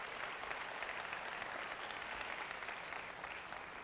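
Sustained applause rises from a summit audience for the speakers, a dense, even patter of many hands heard from a distance at low level.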